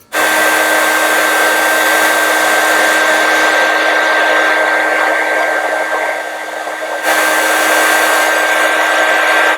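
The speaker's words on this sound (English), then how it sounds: "So I busted out my heat gun." A heat gun blows steadily up close while warming a plastic dollar store skeleton, a loud continuous whooshing hum that dips briefly in tone near the end before returning to full strength.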